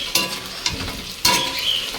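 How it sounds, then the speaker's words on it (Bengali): Soybean chunks heating in a pan over a low gas flame, crackling and sizzling up close with a few brief scraping stirs. "এখানে সোয়াবিনটা গরম করতে দিয়েছি, গ্যাসে হালকা আছে করতে দিয়েছি।"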